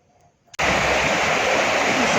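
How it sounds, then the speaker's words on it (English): A creek behind a house in Wollongong swollen into a torrent after heavy rain, bursting in suddenly after a brief quiet moment as a loud, steady, close rushing roar of water. "the creek outside the back of the house, and it is rushing."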